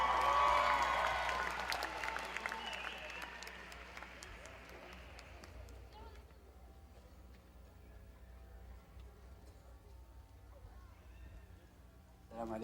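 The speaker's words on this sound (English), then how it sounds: "please put your hands together and give him a warm round of applause" Audience applause in a hall at a Ramadan lecture event, loud at the start and then fading over several seconds into a quiet room with scattered small sounds.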